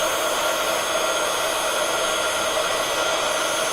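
A heat embossing tool blows hot air over embossing powder in a craft project, giving a steady, loud, continuous whoosh like a hair dryer that runs unbroken from start to finish.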